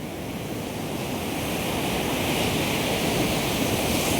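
Ocean waves break on a beach on the Arabian Sea, a loud, dense, continuous wash of surf that swells slightly, with wind across the microphone.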